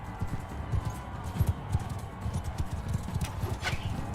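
Rapid hoofbeats from a galloping horse in the video game Mount & Blade II Bannerlord, a steady close drumming rhythm lasting the whole stretch with no speech.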